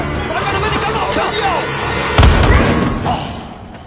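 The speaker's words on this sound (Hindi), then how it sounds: "अच्छा शॉट था फ्राई" Gunshots and explosions from an action movie: a rumbling barrage of bangs with a heavy blast near the middle, mixed with scattered pops and score, loud and dense before fading out.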